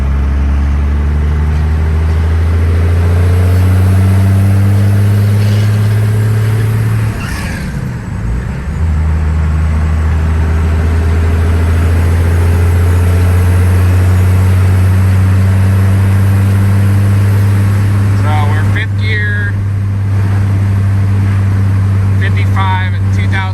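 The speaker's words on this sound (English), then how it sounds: "I'll be back once I can actually accelerate with it. All right, so I'm back, just going through gears here." A 1995 Dodge Ram extended-cab pickup accelerates through its gears on the road, its loud engine drone rising in pitch, dipping briefly at a shift, then climbing again and holding a steady cruising tone.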